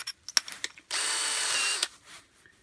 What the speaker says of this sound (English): Hold the chuck and tighten it.